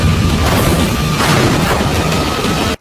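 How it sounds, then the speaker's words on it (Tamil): A big blast in the Devil May Cry animated series, a loud, sustained booming roar of explosion noise that fills the whole stretch before cutting off abruptly. "அது மிகப்பெரிய பிளாஸ்டே ஏற்படுது"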